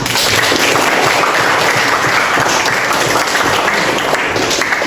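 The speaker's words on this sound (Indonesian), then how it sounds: "Bagus, berikan tepuk tangan." Children in a classroom clap together in steady, dense applause that stays loud and continuous for the whole stretch, with no voices rising above it.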